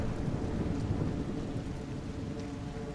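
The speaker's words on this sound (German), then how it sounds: "Aber das regnet sehr." Heavy rain pours down in A Juggler's Tale on PS5, a dense, steady broadband wash of downpour with a low rumble beneath. It sounds close and continuous, with no voices.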